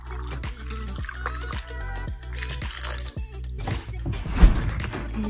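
Water pours into lemon juice in a kitchen, two cups worth, trickling and splashing steadily with rhythmic low knocks, building to a louder splash near the end.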